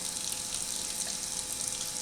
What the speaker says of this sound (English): I'm going to get my warm water started so I can add that to this.